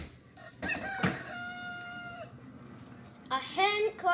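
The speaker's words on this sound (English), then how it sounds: "A rooster is a male chicken. His crowing can be heard all over the farm." A rooster crows loudly and close by in a long, drawn-out call, followed moments later by the start of another crow.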